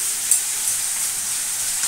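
Fish head and pumpkin greens curry frying and sizzling in a pan while being stirred, a steady continuous hiss with a few brief scraping accents, close by and with no talking.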